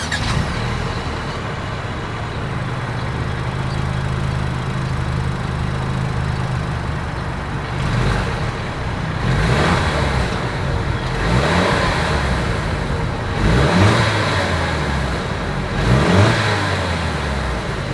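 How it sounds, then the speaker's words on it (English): A 2022 Mercedes-Benz E350's dual exhaust idles steadily and then revs up several times in rising bursts, loud and close with no talking. "So having said that, I do believe you guys know what we have to do next. As always, here is that exhaust clip"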